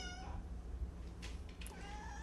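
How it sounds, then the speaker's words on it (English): A cat meows indoors at close range, with a couple of drawn-out, plaintive meows over a low background hum. "He won't stop meowing, so he's kitty quarantined for like 10 seconds while I can hold him."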